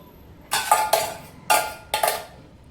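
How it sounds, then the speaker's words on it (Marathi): Masala rice is mixed on a large plate, making four sharp metallic clinks in two pairs, close and clear against a quiet background. "आता हे का मोठ्या ताटात मी हे सगळं मिश्रण काढून त्यात उरलेला भात पण यात मिक्स करून घेत आहे."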